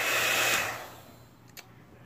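Hot air brush hair dryer blowing with a steady broadband whoosh that fades quickly, leaving faint background hum and a brief click near the end.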